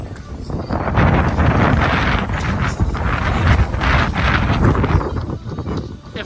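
Gusty wind at the Virginia Beach oceanfront beside a hotel roars and buffets a handheld phone's microphone, a loud, rumbling blast that swells and eases throughout with no clear speech.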